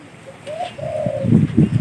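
Zebra doves and spotted doves coo close by, a soft rising note followed by a longer drawn-out coo, then lower rhythmic coos pulsing over a faint background hum.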